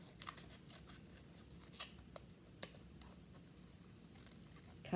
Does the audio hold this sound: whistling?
no